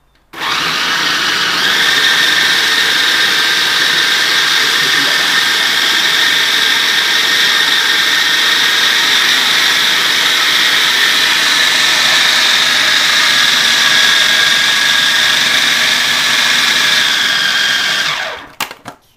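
Food processor blending a raw brownie mixture with a pinch of salt, one loud continuous whirring run that starts abruptly and stops near the end.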